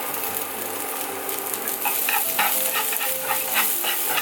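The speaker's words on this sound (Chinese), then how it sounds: "加入我们的姜丝，先炒一下。" Ginger strips stir-fried in hot oil in a wok for Buddha's delight, a loud continuous sizzle with quick rhythmic spatula scrapes building in the second half, close up and free of talk.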